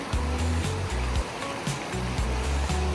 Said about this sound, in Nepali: माई खोलामा आएको छ हामी आज